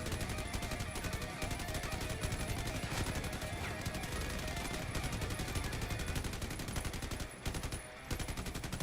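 Rapid automatic gunfire rattles almost without pause in a video game, dense and loud, with a brief gap near the end before the bursts resume.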